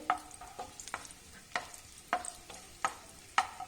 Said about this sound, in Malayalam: ഇനി നമുക്കിതിലേക്ക് കുറച്ച് കിസ്മിസ് ഇട്ട് കൊടുക്കാം. അതും ഇതുപോലെ ഒന്ന് ഫ്രൈ ചെയ്തെടുക്കാവേ.